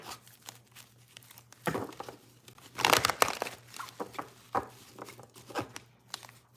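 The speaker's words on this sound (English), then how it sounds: "Let's do one more shuffle here." Crisp crinkly shuffling of tarot cards in a few short bursts, the loudest riffle in the middle, with soft handling rustles between.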